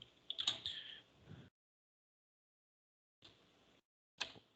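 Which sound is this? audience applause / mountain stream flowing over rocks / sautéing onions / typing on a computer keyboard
typing on a computer keyboard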